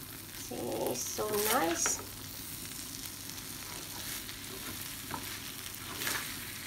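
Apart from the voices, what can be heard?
stir-frying and mixing pad thai noodles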